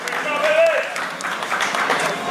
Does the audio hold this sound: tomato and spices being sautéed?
no